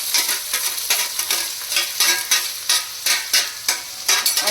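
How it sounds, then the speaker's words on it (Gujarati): Chopped onions hitting hot oil already tempered with ginger, chilli and garlic for Manchurian, crackling and sizzling up close with a steady rhythm of stirring strokes in the pan and no talk. "હવે આપણે ડુંગળી પહેલા નાખી દઈએ"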